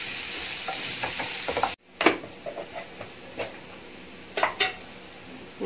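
Onions sauté in a pan for masala dosa filling, a bright steady sizzle that briefly cuts out, then returns with sharp metallic clinks and scrapes of a spoon stirring.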